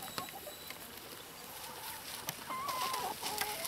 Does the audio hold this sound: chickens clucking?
yes